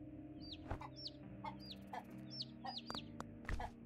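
Chickens cluck repeatedly in a farming video game, short bursts of clucks arriving every half second or so over a steady low game background hum, close and clear with no talking.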